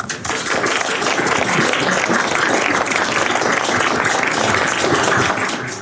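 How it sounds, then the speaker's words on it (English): A congressional briefing audience gives sustained applause, dense clapping at a steady level for several seconds before it starts to taper off. "let's give them a round of applause"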